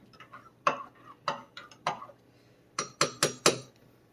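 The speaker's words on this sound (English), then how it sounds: "So I'm stirring that in." A spoon clinks against a bowl while stirring yeast into lukewarm water for homemade pizza dough, giving scattered single taps, then a quicker run of four sharp clinks near the end.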